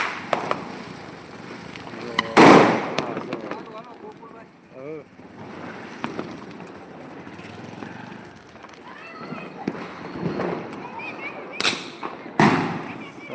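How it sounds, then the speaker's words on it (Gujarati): Young people set off firecrackers outdoors, sharp loud bangs bursting at intervals with crackling between them, amid wind noise and nearby voices talking. "અહીંયા આપણા યુવાન મિત્ર બધા પણ ફટાકડા ફોડી રહ્યા છે"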